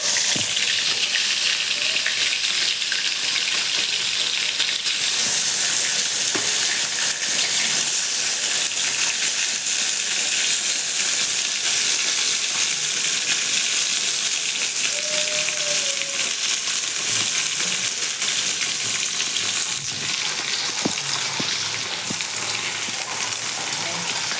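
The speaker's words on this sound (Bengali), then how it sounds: "তেল গরম হয়ে গেছে, এবার মাছগুলো দিয়ে দিচ্ছে।" Fish sizzling steadily in hot oil in a village kitchen, a continuous dense crackle that stays loud and even throughout with no voices.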